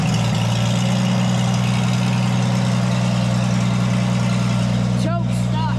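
Old Oliver 77 farm tractor engine after three months of sitting, running steadily with a loud low hum throughout, and a brief higher whine near the end.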